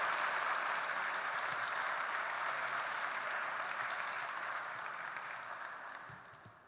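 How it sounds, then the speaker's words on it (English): Audience applause at a Roanoke College athletics event, a steady, even roar of many people clapping that holds strong before gradually fading toward the end. "How about one more round of applause for 4 great Roanoke College student athletes?"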